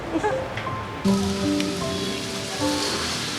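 Steady rain falls throughout during a rainy season, a dense even wash with some tonal sounds drifting over it and a slight swell partway through.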